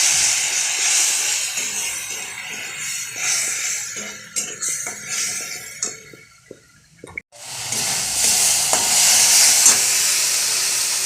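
Cumin and turmeric frying in a pan: a steady close sizzle and hiss with small stirring clicks, a brief quiet dip, then a louder burst of hissing.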